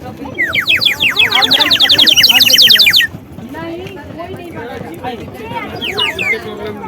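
Rapid, shrill sparrow-like chirping from a cheap ten-rupee toy whistle, loud and continuous for about three seconds, then cut off; people keep talking afterward and a few faint chirps return near the end.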